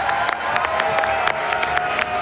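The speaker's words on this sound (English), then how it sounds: "audience, can I get a huge round of applause for 50 million total raised?" An audience at a Summer Games Done Quick speedrun charity marathon claps steadily, a dense wash of applause with scattered sharper claps and some faint cheering, moderately loud throughout.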